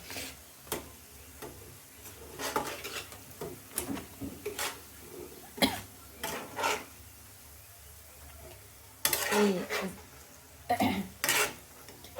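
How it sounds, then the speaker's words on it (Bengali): Fried pakoras lifted out of a frying pan: scattered light metallic taps and scrapes of a utensil against the pan, irregular and quiet, with a few louder clatters near the end. "পাকোড়া আমার ভাজা ভাজা হয়ে গেছে, লাল লাল করে ভেজে নিয়েছি। এবার তুলে নিব।"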